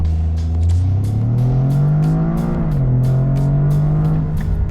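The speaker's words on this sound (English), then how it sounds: "We're gonna try launch control, guys." Toyota GR Corolla with an 8-speed automatic accelerating hard from a launch-control start, a loud rising engine note climbing steadily with a brief dip at a shift before pulling again, close and continuous.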